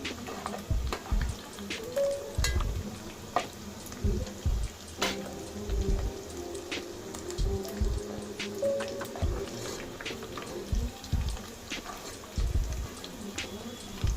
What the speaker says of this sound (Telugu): కొద్దిసేపు ఫ్రై కానిద్దాం.